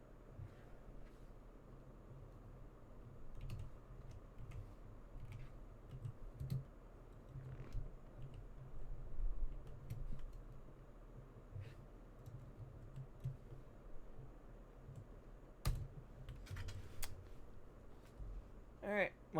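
Typing with one hand on a computer keyboard, slow, irregular pecking clicks scattered over low background noise, faint and close, with occasional louder taps.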